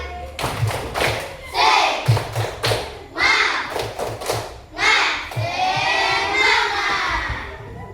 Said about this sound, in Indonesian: Untuk itu kita tepuk semangat dulu.